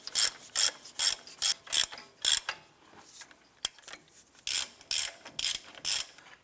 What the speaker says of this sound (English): put our 21mm socket and ratchet on, and go ahead and bottom out these upper and lower caliper bracket bolts